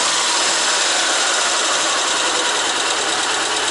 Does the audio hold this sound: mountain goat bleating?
no